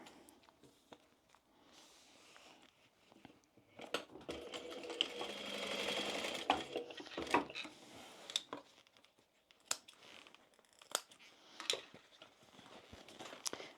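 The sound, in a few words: sewing machine stitching tote bag seam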